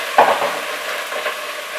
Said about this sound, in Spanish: echar aceite a la sartén, a la cazuela, echar las cabezas y las pieles de las gambas